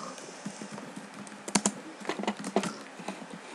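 Keys clack on a computer keyboard in quick, uneven bursts as a name is typed in, close and moderately quiet, with no voice over it.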